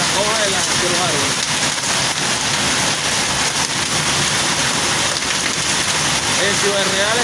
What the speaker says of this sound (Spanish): Granizo veraniego.